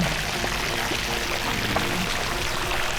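Water pours steadily into a resort swimming pool in Phuket, Thailand, a constant close splashing rush that holds at an even level throughout.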